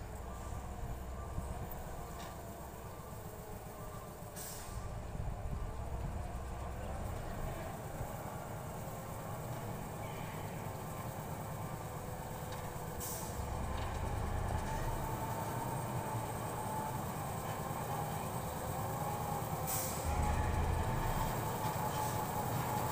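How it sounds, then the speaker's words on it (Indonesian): A loaded logging truck works its way down a steep, damaged and potholed road. The engine drones low and steady throughout, with rattling and a slight swell in loudness toward the end, and no one speaks. "Jarang sekali lain daripada truk logging yang melintas di jalan baru"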